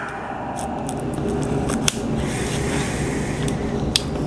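A knife cuts through material with sharp, crisp snips at irregular intervals, two louder cuts standing out over a steady room hiss.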